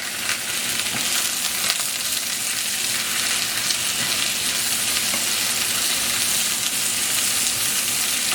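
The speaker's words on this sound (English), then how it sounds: "So, we want to give them a stir." Sliced squash and zucchini sauteing in a frying pan while being stirred, a loud, steady sizzle with occasional scraping and clinks of the utensil, continuous and close.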